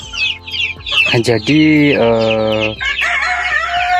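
Small-scale farm flock of chickens clucking busily with a loud rooster crow in the middle, close and dense; someone speaks briefly.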